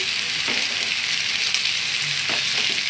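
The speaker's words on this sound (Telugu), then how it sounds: "కాకరకాయలు అన్నీ వేసి మళ్ళీ వేయించుకున్నాము" Bitter gourd pieces fry in oil in a pan over a low flame, giving a steady, close hiss with a few faint stirring touches and no voices.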